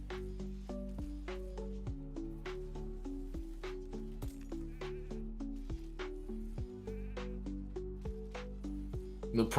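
Sheep bleats in a video game where spiders have been turned into sheep, under dense game music with steady tones and repeated sharp hits, the bleats hard to pick apart in the mix.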